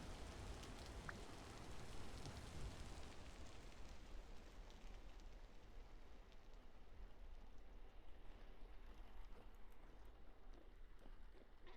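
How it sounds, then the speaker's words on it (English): Steady, soft rain in the video game Vintage Story patters throughout, a dense even hiss of drops that thins slightly toward the end. "The sound of the rain tapering off."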